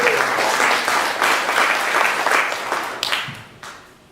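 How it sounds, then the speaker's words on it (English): Audience applause at a branding talk, a loud burst of many hands clapping at once that gradually thins and fades over about four seconds, with a few trailing claps near the end. "Would you please applaud Scott?"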